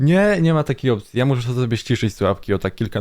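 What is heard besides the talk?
None of the usual background noises is heard.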